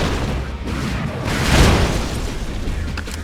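A Soviet warship in a naval combat video game fires on a base, with muffled cannon booms and a heavier blast swelling mid-way over a continuous low battle rumble.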